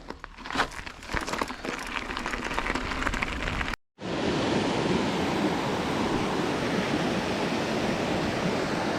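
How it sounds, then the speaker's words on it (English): Light rain patters steadily across the second half, a dense hiss of drizzle on a mountain trail in Val Gardena, following a stretch of rustling handling noise and a brief dropout. "Just spitting with light rain"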